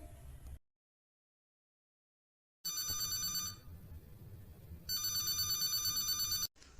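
A telephone rings in a home in two bursts of bright electronic trilling after a stretch of silence, loud and close, with no talk over it.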